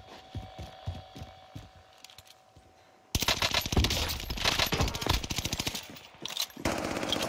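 An MP40 submachine gun in Call of Duty Warzone, Caldera map, fires in short bursts and then a long, loud sustained automatic stream of rapid shots, preceded by quieter distant gunfire.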